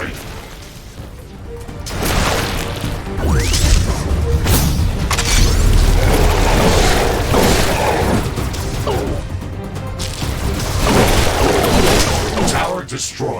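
Buildings, walls and towers exploding and collapsing in The Riftbreaker, a dense run of loud booms, crashes and debris bursts following one another over a steady rumble, with an announcer-style voice speaking in places.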